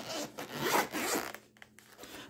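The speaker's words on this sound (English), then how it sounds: "Has zippers right here." A zipper on a flashlight carrying case rasps open in quick, close-up pulls, a dense scratchy run followed by a few short tugs, with no talking.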